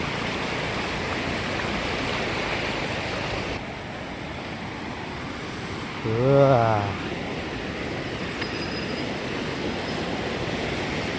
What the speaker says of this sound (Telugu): అక్కడ వెళ్ళి ఇక్కడ వెళ్ళి అంత వస్తున్నాయి నీళ్ళు